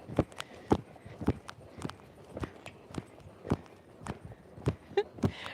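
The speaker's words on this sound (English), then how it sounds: "now I asked for the left lead canter, which we got right away" A green horse cantering on the left lead under a western rider, with a steady three-beat rhythm of hoof thuds and clops on firm ground, fairly close and clear, with little else around it.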